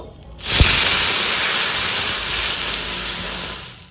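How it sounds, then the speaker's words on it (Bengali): A cup of milk poured into a hot pan with crushed cardamom sets off a loud, steady hiss that begins abruptly and holds evenly to the end, close by and alone. "আমি এখানে নিয়েছি 1 কাপ দুধ, তো পুরোটা দিয়ে দেব।"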